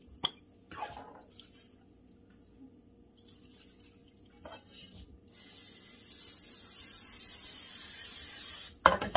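Cooking spray hisses onto 9-inch cake pans in a home kitchen, a steady close spray of several seconds with a few faint clinks and handling rubs before it.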